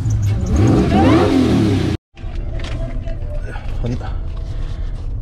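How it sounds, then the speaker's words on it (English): A race truck engine is revved close by, a loud rising and falling roar, followed by a brief dropout and then lower rumbling and mechanical noise underneath. "Here's a little rev for you guys."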